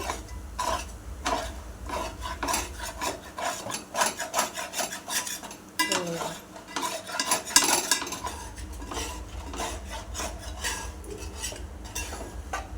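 A metal spoon stirs shark fish curry with ginger garlic paste in a pan, giving steady scraping and clinking against the pan in an uneven rhythm, close and moderately loud, with a faint sizzle beneath.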